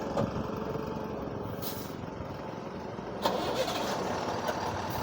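A truck engine starts on a ghat road with the driver at the wheel, settling into a steady mid-pitched rumble with a couple of brief revs and clanks near the end.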